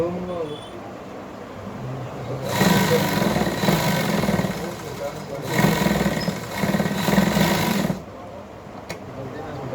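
A sewing machine stitches a puff sleeve seam in two loud, steady mechanical bursts, each a few seconds long, with quiet pauses between and soft handling sounds around them.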